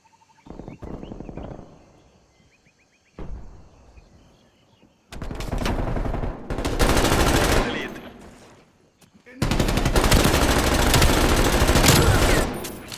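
An LC10 submachine gun fires in a team deathmatch video game, in several bursts of rapid automatic shots. The loudest, longest bursts come later, with quieter pauses between them.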